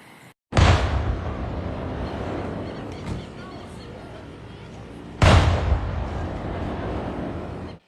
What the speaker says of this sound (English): Can you hear the explosions?